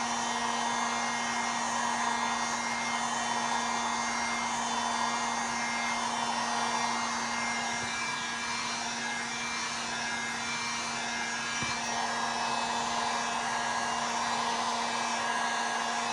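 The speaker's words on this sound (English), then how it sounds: "Okay, so I'm going to hit my dryer again." A hair dryer blows continuously at a steady pitch, drying a rub-on transfer on a Christmas home decor craft piece; the whine stays close and constant throughout with no voices.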